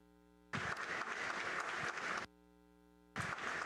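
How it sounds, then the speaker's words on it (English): Two bursts of loud applause from an audience at an Army graduation ceremony, separated by a brief lull where only a low electrical hum remains. "please join us in a round of applause for these veterans"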